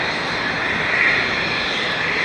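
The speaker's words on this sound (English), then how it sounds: "Next is the KLM Airbus A330-200" A KLM Airbus A330-200 jet airliner passes, a steady loud broadband engine roar with a sustained whine, nearby and without speech.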